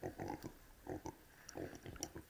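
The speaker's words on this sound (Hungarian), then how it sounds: "Övög a disznó" Pig grunting from the video game Age of Mythology Extended Edition: a string of short, rough grunts in quick uneven bursts, fairly close and moderately loud.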